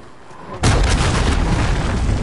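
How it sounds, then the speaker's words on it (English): A cruise missile detonates in a video game: a quiet lead-in erupts into a sudden loud, close blast, followed by a long, heavy rumbling roar that stays strong to the end. "Enemy cruise missile incoming!"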